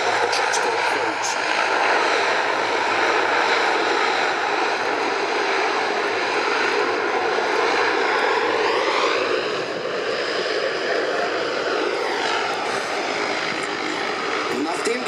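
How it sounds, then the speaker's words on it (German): A C-160 Transall military transport aircraft comes in on a steep approach to land at Sarajevo during an evacuation exercise, its turboprop engines droning loud and steady throughout, with the pitch shifting slightly as it descends and a voice talking over it. "Nachdem die C-160 Transall gelandet ist"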